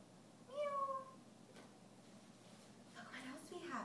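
A person imitates a cat meowing with a single rising-then-falling meow. A soft voice talks quietly afterward in a calm indoor room.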